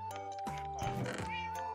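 Cat meows in Minecraft, a couple of short game-sound mews over steady background music, close and clear.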